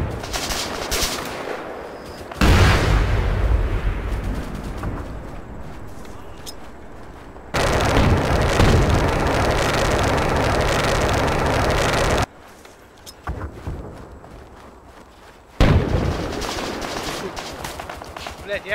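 Recoilless gun fire and shell impacts on armored vehicles in a military video game: loud sustained gunfire and blast noise in long stretches broken by abrupt cuts, with voices talking over the combat.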